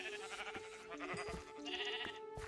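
Sheep bleat in the Minecraft video game, a few short nasal bleats close by over soft game music and clicking sounds, with no one talking.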